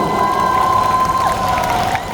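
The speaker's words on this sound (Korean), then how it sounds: "박수" Audience at the Build Up Korea 2025 conference in the KINTEX hall, Ilsan, cheering and applauding as a former Thousand Oaks mayor and pastor is introduced; a steady, dense crowd roar with a held tone running through it.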